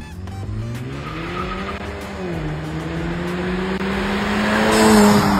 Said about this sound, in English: I love the way the K5 sounds. It sounds so good with that little blow off valve too.